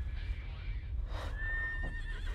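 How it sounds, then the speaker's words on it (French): In a scene from the 2017 French film Seuls, horses whinny with shrill, wavering cries while hooves clip-clop in a steady rhythm beneath, against a dense low rumble. "Les chevaux."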